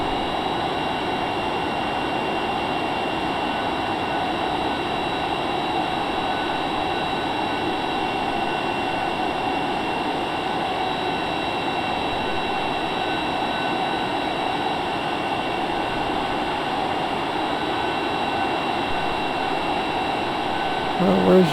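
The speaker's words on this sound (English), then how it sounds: "we certainly can't land with scramjets running." Scramjet engines running in a flight simulator game, heard as a steady, unbroken broadband roar with a faint high whine that holds evenly at constant loudness throughout, with no talking.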